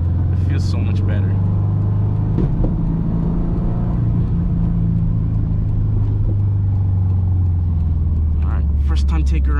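A 2006 Subaru WRX with a JDM engine swap and lightweight flywheel cruising on the highway, a loud steady low engine drone heard from inside the cabin, shifting pitch partway through, with a voice talking over it.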